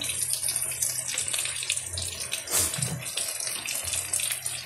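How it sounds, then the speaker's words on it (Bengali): Rose water is poured into chicken chaap as it cooks, a close, steady trickling pour of liquid with no talking. "এবার গোলাপ জল পরিমাণ মতন"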